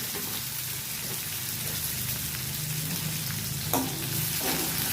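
Flat beans and garlic frying in a pan over low heat, a steady broad sizzle with soft stirring scrapes throughout and one brief louder clatter near the end, no voices.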